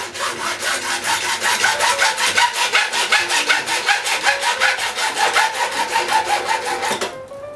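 A hacksaw cutting through PVC pipe in fast, regular back-and-forth strokes, each one a loud rasping scrape, continuing steadily until the cut finishes and the sound stops abruptly.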